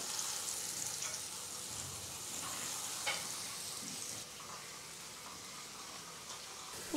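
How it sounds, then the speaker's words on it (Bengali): Katla fish coated in salt and turmeric frying in hot oil, giving a steady, fairly quiet sizzle and crackle that holds throughout with small spits and pops, no talking. "তেলটা গরম হয়ে গেছে, আমি দিয়ে দেবো মাছ"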